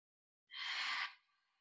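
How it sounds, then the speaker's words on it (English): A single breathy exhale through the mouth during a yoga practice, close and soft, fading into a quieter trailing breath, with no speech. "We'll exhale out through the mouth."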